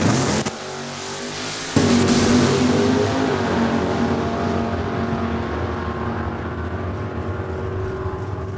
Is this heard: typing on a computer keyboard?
no